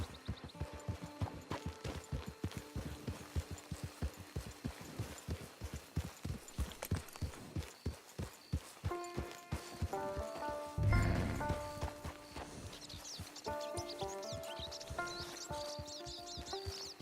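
Horse walking in Red Dead Online, clear regular hoof clops close by in an even rhythm, later joined by music and ambient game sounds.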